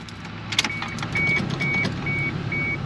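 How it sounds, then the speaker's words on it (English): A Toyota Supra with a 2JZ-GTE engine, fresh from a front main seal and timing belt job, starts up close by with keys jangling and a brief cranking burst. It settles into a steady idle, with no talk. "I'll just start it so you guys see the car working and not leaking"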